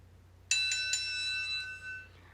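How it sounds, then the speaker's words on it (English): A single bright bell strike rings out after a brief quiet start, its clear metallic tone sustaining and slowly fading over about two seconds, like a wrestling ring bell or doorbell chime. "Well, the bell has rung,"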